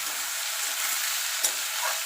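Onion and tomato stirred and frying in a pan for a Bengal-style raw-tomato mourala fish dish, a steady close sizzle with a light scrape of stirring near the middle, no voices.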